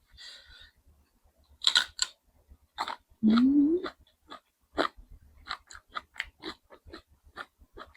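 Close, crisp, irregular chewing of food eaten with canned-fish chili paste alongside vegetables, with scattered crunchy bites, quiet gaps, and a brief hummed murmur partway through.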